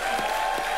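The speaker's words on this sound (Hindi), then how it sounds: "इनके लिए जोरदार तालियां हो जाए।" Studio audience clapping for a young actress on a comedy show, a brief, even burst of dense applause.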